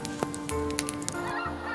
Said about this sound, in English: Every spring, millions of Canadian geese make their way north across the United States.